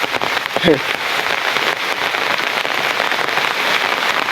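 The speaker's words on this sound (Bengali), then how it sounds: "বৃষ্টির টপটপে ছাতা দিয়ে পড়তে থাকি" Steady heavy rain pours onto a street and drums on an umbrella overhead, a continuous near wash of patter with a brief voice or sound early on.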